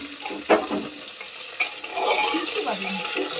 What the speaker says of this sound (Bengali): তারপর আমি ফ্রাই করে নিই ফুলকপি